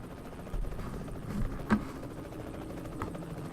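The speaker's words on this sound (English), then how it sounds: "Thought I heard a helicopter." A helicopter flies overhead in the American Truck Simulator video game, its rotor chop faint and distant under a low engine drone, with a brief louder thump partway through.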